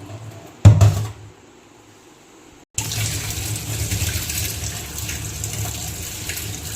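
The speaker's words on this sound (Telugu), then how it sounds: "సింక్లో కడిగేటప్పుడు మనం ఇలా కడిగామనుకోండి" A kitchen sink tap runs while something is washed. A brief clatter and splash come first, then a near-silent pause, then a steady, close stream of running water pours on.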